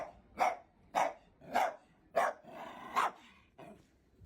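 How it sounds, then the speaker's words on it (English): A dog barks six times in an even, steady rhythm, each bark sharp and close, with quiet gaps between them and no talking. "This dog is the definition of all bark and no bite."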